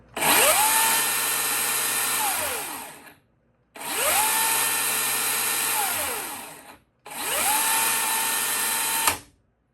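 A battery-powered Milwaukee chainsaw revs up three times, each whining run holding steady for a few seconds before cutting out abruptly as the chain brake is applied.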